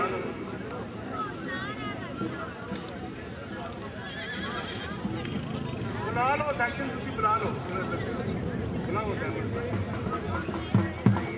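Horses move at a neza bazi tent-pegging event in Kharian, Gujrat, with a busy outdoor crowd and a loudspeaker announcer talking over them. Whinnies and loose hoof thuds are scattered and mostly buried under the voices and the hubbub.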